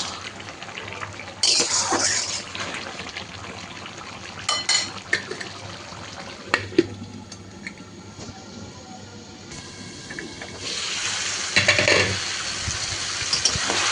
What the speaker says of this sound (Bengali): এই পর্যায়ে আমি আর একটু নেড়ে দেবো, তলা থেকে ধরে না যায়।